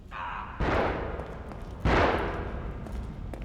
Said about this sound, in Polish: Słychać jakieś strzały.